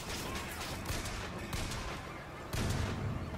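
Gunfire in the video game Bioshock Infinite, a dense run of loud shots and blasts over busy game sound with no talk, and a heavier burst near the end.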